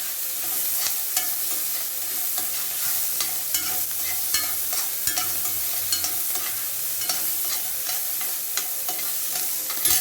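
Sambar onions (shallots), about a hundred grams, frying and being stirred in a pan, with a steady close sizzle and repeated scraping stirs throughout, no talking.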